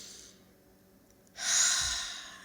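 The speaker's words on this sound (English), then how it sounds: "Then you're going to take a breath" A single person takes a slow, deep breath, a soft quiet intake followed by a louder, airy exhale that swells and fades out.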